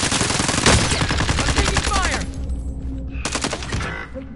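Heavy automatic gunfire in a Call of Duty match, dense rapid bursts for about two seconds, then scattered shots and a short final burst, loud and close throughout.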